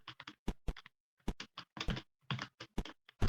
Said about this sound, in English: you guys liking the keyboard ASMR?